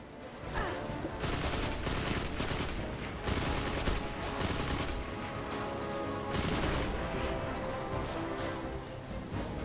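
Destiny 2 gunfire rattles in dense, rapid bursts of loud shots, near and continuous, with brief gaps between volleys and a faint voice in the background.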